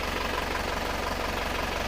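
A steady, close idle from an Isuzu Panther Euro 2 diesel engine that burns oil and shows blow-by, a dense even rumble with a fine rhythmic knock running without pause and no voices.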